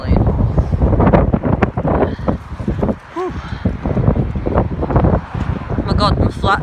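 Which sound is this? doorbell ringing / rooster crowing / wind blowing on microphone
wind blowing on microphone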